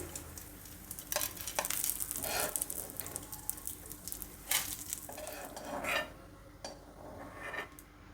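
Urad dal being stirred in a frying pan of hot oil, faint sizzling with soft scraping and clinking strokes of a spoon against the pan, with no talk.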